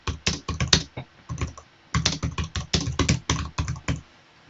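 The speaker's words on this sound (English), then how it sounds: "So we can type in things along the lines of" Typing on a computer keyboard while entering a question into an Excel data query, heard as close, crisp key clicks in quick bursts with a brief pause midway, no talking.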